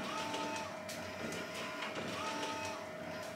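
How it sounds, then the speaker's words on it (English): A sublimation printer prints shirt designs with a steady whirring and a tonal motor hum, overlaid by repeated rhythmic clicks and swishes as the print head passes back and forth, close and continuous. "here we are with these prints coming out this printer"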